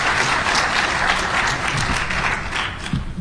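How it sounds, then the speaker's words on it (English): Steady, dense applause from a conference audience at a hacking convention, loud and continuous throughout without a break, filling the hall from nearby with no speech on top. "Applause!"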